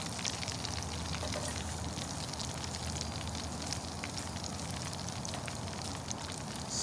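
Fish fries in hot oil inside a cast iron Dutch oven over a 180 Tack stove, a dense, even crackling sizzle that runs steadily throughout without any talking.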